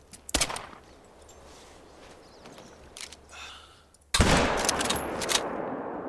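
Gunshots fired while hunting in theHunter: Call of the Wild, a sharp report early on and a louder blast later with ringing decay, set against quiet outdoor ambience of the game world.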